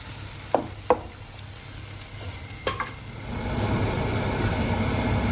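Chili paste simmering with added water in a pan, a few sharp clinks and knocks early on, then a steady, building sizzle that fills the last few seconds with no talk.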